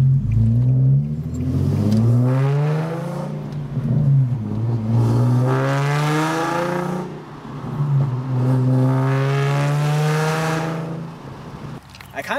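A Nissan 370Z Nismo's V6 (VQ37VHR) revs up and falls back three times, each rising whine sweeping high and dropping to a throaty idle, loud and close.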